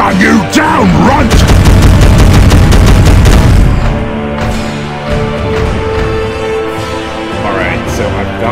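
Gunfire in Warhammer 40000 Regicide, Space Marines against Orks, rattles in a loud rapid burst of shots with booming impacts, then settles into quieter battle noise under a voiced character shout.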